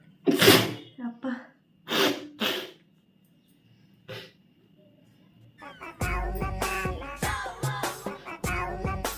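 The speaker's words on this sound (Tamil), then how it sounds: "தும்மல் வந்துட்டே இருக்கு, ஆனால் கொஞ்சம் லேட்டாக வருது." Sneezing during a sneezing challenge: a few loud, sharp sneezes and gasps close to the microphone, separated by quiet pauses, then a busier stretch of bursts with voices talking.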